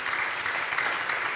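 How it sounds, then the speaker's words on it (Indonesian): Church congregation applauding during an online Easter worship service, a steady dense wash of many hands clapping together at moderate loudness, with no talk over it. "Boleh dong bangga tepuk tangan bagi Tuhan."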